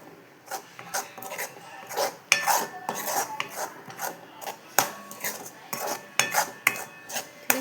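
A spoon clinks and scrapes against a dish while mixing sweet-spiced mango chhundo with clove and cinnamon pieces, in a steady run of close, sharp knocks and rubs, no talking.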